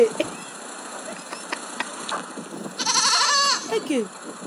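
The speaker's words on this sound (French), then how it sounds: "Chèvre du Canada." Goats bleat in a short burst near the end, a wavering call rising over steady background noise and a faint idling engine, with people talking nearby.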